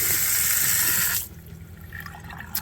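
Fresh water gushes from a spigot at a boat's helm in a loud, steady rush that cuts off abruptly after about a second, leaving faint drips and trickles.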